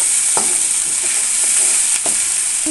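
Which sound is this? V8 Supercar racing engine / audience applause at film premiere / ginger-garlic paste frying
ginger-garlic paste frying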